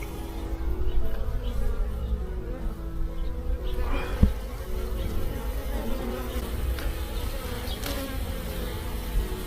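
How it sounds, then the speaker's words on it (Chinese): Honey bees buzz and fan their wings at the entrance of a shaded hive box, a steady close drone of many insects with one brief sharp tap partway through. "也有蜜蜂在蜂箱口扇风"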